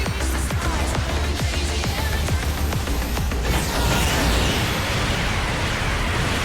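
A destroyed enemy mobile suit explodes in Gundam Battle Operation 2, a loud broadband blast with rapid crackling bursts at first, then a sustained roaring rumble that fills the whole stretch.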